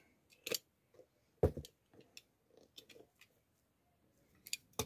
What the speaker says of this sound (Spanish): Cortamos el hilo.